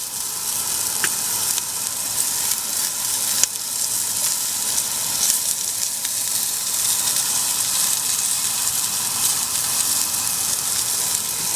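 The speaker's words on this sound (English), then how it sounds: "she added a little more lard to fry those onions" Shallots fry in lard in a pan over high heat at a camp cooking setup, giving a loud continuous sizzle and crackle with occasional sharp pops and no talking.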